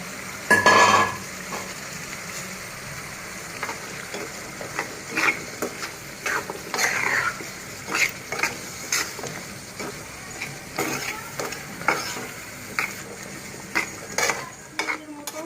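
Taro pieces sizzle softly in a pan while a metal spatula scrapes and clinks against it in irregular strokes, with one louder clatter near the start.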